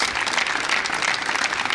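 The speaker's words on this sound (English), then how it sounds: "A round of applause, please." Steady applause from an audience at a national spelling competition in Abuja, a dense, even wash of clapping that continues without a break through the whole short stretch.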